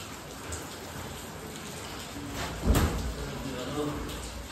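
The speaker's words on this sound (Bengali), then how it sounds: "বৃষ্টি আর থামবে না, তাই চলে বৃষ্টি মাথায় বেরোনো যায়।" Rain keeps falling during Cyclone Remal, a constant close hiss of drops on surfaces, with a short louder splash or knock partway through.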